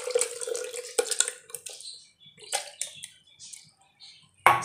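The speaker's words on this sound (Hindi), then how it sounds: "अब हम एक जार लेंगे, इसके अंदर खुबानी और पानी डाल देंगे इसका।" Apricots and water poured into a blender jar while making apricot chutney, giving splashy bursts of liquid and small wet knocks in uneven spurts with quiet gaps, close and fairly loud.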